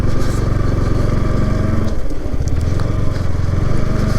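A motorcycle engine runs close by while riding, a loud, buzzing, pulsing drone that dips briefly in the middle before picking back up.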